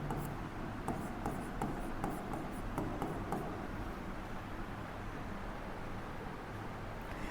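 Marker or chalk scratches across a board during an organic chemistry lesson, heard as quick, light strokes in the first few seconds over a steady low room hum, then fading to mostly background noise.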